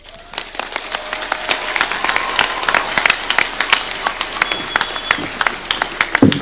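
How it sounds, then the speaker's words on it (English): Audience applause for the Chancellor of the Co-operative University of Kenya at a formal event, a steady wash of many hands clapping that swells slightly and continues throughout, fairly close and loud. "Another round of applause for the Chancellor, Cooperative University, Dr. Ben."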